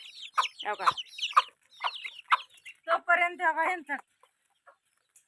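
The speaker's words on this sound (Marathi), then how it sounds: "कोंबडी पण आली बघा भाय" Hen clucking with her chicks on a farm, a series of short, loud, close clucks with a brief rhythmic burst near the end, then quiet; a person may be talking in the background.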